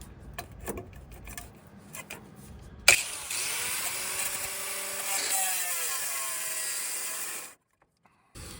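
An angle grinder cutting through metal on a 1968 Kaiser Jeep M715, starting abruptly after some quiet handling noises and whining steadily for about five seconds before cutting off.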